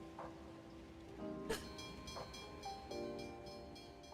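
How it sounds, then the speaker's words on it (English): In the video game Neverness to Everness, a train passes a station with a steady low rumble, periodic clacks, a few tonal beeps, and a sustained whistle-like hum, fairly faint with no talk. "Careful, the train's there."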